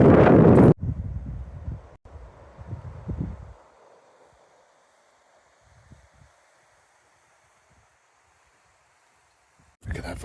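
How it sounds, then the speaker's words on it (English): Wind gusts buffet the microphone on a blustery Sunday-afternoon forest walk in the UK, a strong rush that eases into a faint steady blow before another gust hits at the end. "Oh, it's windy."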